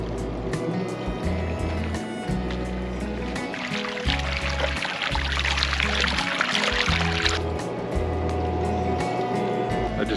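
A pump drains water from a water-trough swimming pool at an RV park campsite, chugging in low uneven pulses with a rushing, splashing flow that swells midway and then drops back, close and moderately loud.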